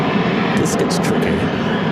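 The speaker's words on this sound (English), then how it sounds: "737-700 pulling into gate D5." Steady jet engine hum from a Boeing 737-700 taxiing into a gate at Phoenix airport, heard at moderate distance, with a person talking over it throughout.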